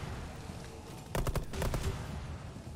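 A quick cluster of sharp gunshots from a video game, fired at mines, bursting in the middle of a quieter game-ambience bed and fading back out.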